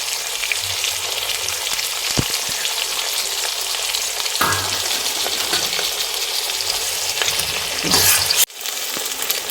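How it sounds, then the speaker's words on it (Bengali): Mustard, ginger, chili and sesame paste sautéing in a pan, a loud, dense, continuous sizzle with occasional spoon scrapes and clinks, ending in a sudden hiss and drop as something is added. "সব মশলা কষানো হয়ে গেছে"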